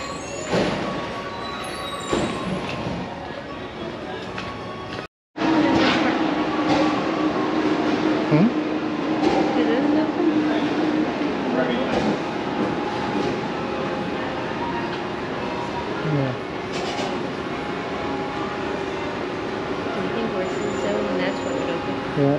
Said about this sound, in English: You can ride the monorail.